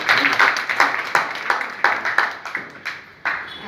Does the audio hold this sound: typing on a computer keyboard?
no